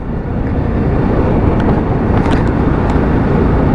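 A new Lexmoto LXS motorcycle being run in, cruising in sixth gear at about 30 mph and 3,500–4,000 rpm: a steady, unbroken engine drone buried under heavy wind rush, with no talking.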